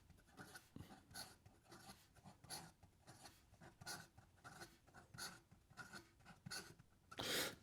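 A Wancher Frozen Sake fountain pen scratching quickly across paper, a faint, close, steady run of short rasping strokes with one slightly louder scrape at the end and no voice.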